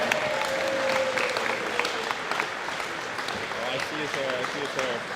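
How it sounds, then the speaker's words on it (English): Applause from an athletics awards ceremony crowd rolls on throughout, a dense and moderately loud clapping with a few voices talking and calling out over it. "One more round of applause, please."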